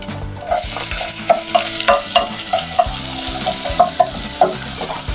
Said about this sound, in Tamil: இப்போது இஞ்சியும் பூண்டையும் இதில் போடுவோம்.